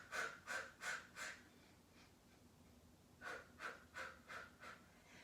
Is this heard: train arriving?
no